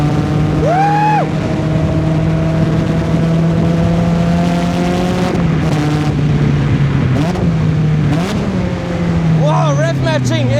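A sports car engine revs steadily through a 6-speed manual gearbox with rev-matched downshifts, its loud, continuous drone rising and falling with brief blips between gears, close and dominant throughout.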